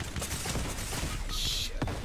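A spam gun fires rapidly in the video game Fortnite: a dense burst of close gunshots, with a short high-pitched whine partway through and a thud near the end.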